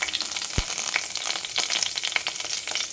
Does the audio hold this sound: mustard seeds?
yes